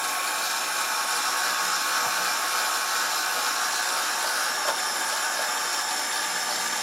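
A heat gun set to high heat blows a loud, steady, airy whoosh while warming small cut-off pieces of wire tie, with the roar holding constant and unbroken throughout.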